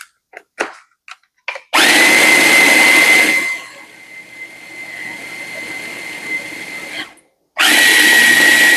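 A food processor whirs as it chops and grinds basil leaves with salt. A loud burst is followed by a quieter, steadier run, then a short pause and another loud pulse at the end.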